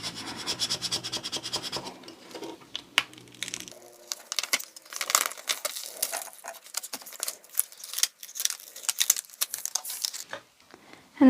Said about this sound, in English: just go over it with a squeegee.